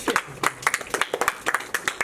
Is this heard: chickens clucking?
no